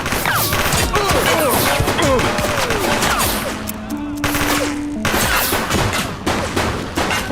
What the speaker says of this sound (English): Firearm alert. Gang confrontation in my vicinity.